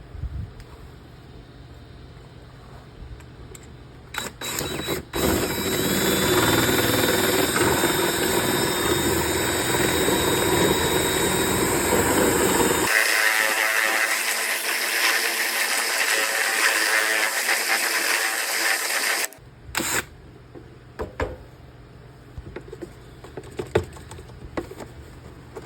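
A homemade rod wrapped in wire ties spins inside paint jugs, driven hard for about fifteen seconds as a loud whirring, sloshing churn that stops abruptly, with clunks before and after and no talking.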